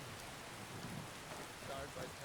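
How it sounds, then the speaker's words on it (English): Rain pours steadily in the Skyrim video game, a dense, even hiss of drops splashing on the ground with a faint low rumble beneath, continuous throughout. "the rain looks pretty good. It is splashing on the ground."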